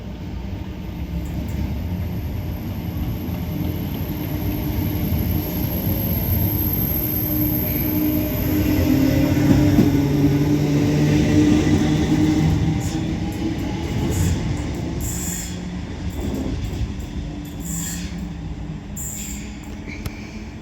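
Northern Class 769 unit 769450 pulls out of Deansgate station in Manchester, its engine rumble and rolling wheels forming a sustained loud drone that swells mid-way and then eases, with light clatter toward the end.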